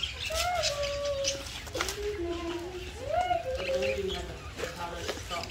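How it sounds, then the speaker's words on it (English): Several birds call and coo in short, repeated phrases from a tree canopy at a nature and adventure park, clear at moderate distance while children and adults talk throughout. "Look at the birds up there."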